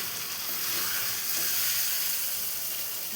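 Meat braising and frying in a pan for a home dinner, a dense continuous hissing sizzle with a faint watery edge, steady and close with no voices.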